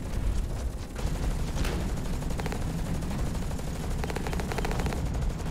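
Automated turret fire in the mech shooter Hawken, rapid continuous shooting with bursts of rattling fire over a heavy rumbling battle background, steady and moderately loud.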